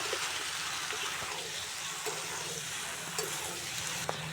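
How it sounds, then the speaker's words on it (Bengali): Prawns frying in a pan with jackfruit and potato give a steady, fairly quiet sizzle with a few faint clicks of stirring, close and continuous, with no speech. "চিংড়িটা এঁচোড়ের সঙ্গে দিয়ে খুব ভালো করে কষিয়ে নেব।"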